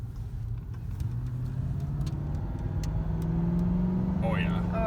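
A Ford Crown Victoria V8 with a performance modification revs and accelerates, its deep throaty drone rising steadily in pitch and loudness, close and continuous, with a brief voice near the end.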